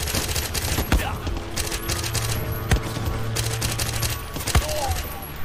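In the Far Cry video game, a gun fires a few sharp, separate shots spaced about a second apart, loud and close, over a steady background drone.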